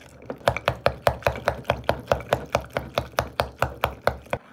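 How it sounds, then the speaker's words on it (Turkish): Aloe vera gel is whisked by hand in a jar, making a brisk, even series of close sharp taps and scrapes, about four per second, with no talk. "bunu kavanozun içinde ezip ezip çırpalım. Jeli çırpacağız."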